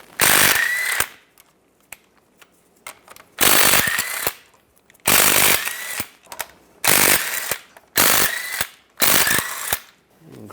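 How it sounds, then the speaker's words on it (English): Bursts of rapid ratchet clicking come from a 15mm socket loosening CV shaft bolts on a 2007-2013 Chevrolet Silverado 1500, close and loud, about six runs with brief quiet pauses and small metallic clinks between them. "We're going to take these bolts out for the CV shaft, use a 15mm socket."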